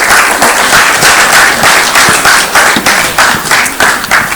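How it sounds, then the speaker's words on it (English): An audience at a panel discussion breaks into applause, with dense, loud, steady clapping that fills the whole stretch and never lets up. "Can everyone please give a round of applause for Mrs."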